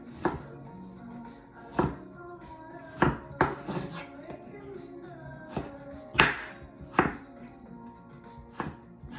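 Potatoes diced small for hash, chopped with a knife on a board, producing a run of sharp, close chopping knocks in irregular bursts under light background music.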